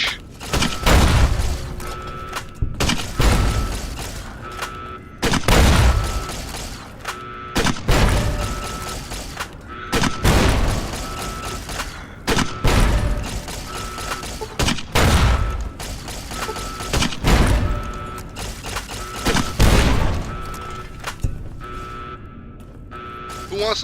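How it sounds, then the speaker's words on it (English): Repeated loud grenade explosions in the video game Fallout New Vegas, a steady series of heavy booms every second or two, with gunfire and game effects between blasts. "Catch my grenades"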